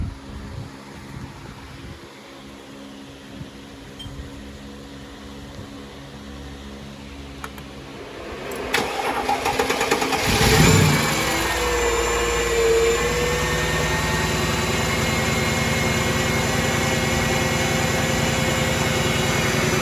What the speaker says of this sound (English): we're going to crank it and see if it fires up